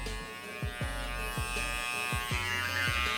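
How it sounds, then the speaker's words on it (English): An Andis T-Outliner hair clipper fitted with a GTX blade runs steadily with a close, constant electric buzz, its pitch dipping in several brief strokes as it passes over thin hair on a hand. "you can see what the clipper is doing."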